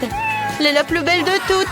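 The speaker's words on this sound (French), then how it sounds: "C'est mon chat" Cartoon cat meows in a French animated show: a few drawn-out, high, wavering mews that rise and fall, heard close and clear while a voice speaks over them.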